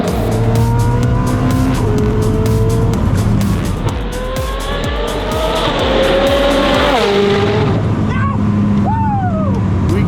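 A 1600-horsepower Koenigsegg supercar on a record attempt roars past at Laguna Seca raceway, loud and close. The engine note climbs through the gears and its tires squeal, with other engine noise from the track around it.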